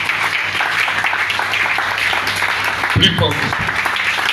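A church congregation applauds in a steady, dense wash of clapping while a preacher's voice carries over it.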